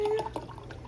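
Hot water is poured into a freshly cleaned glass, a short, close liquid splash and drip lasting under a second.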